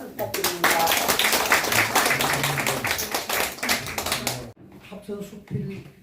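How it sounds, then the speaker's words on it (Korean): Audience clapping at a Korean essay-magazine review gathering for an award winner, a dense burst of hand claps for about four seconds that stops abruptly, followed by quieter sounds and faint talk. "큰 박수 부탁드립니다."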